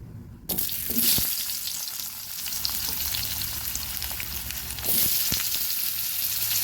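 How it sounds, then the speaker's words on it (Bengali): Oil sizzles and crackles in a hot kadai for a potato and shol fish curry, a dense steady frying hiss that swells louder near the start and again toward the end, with a few sharp clicks. "এবার ওই কড়াইটাতে একটু তেল দিয়ে গুটা ভেজে নেব"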